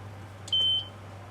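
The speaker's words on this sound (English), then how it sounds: "I'm going to set the timer" A kitchen timer is set and gives a single short, clear electronic beep, close by, over a low steady background hum.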